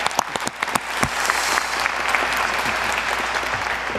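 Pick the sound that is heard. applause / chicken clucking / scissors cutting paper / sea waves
applause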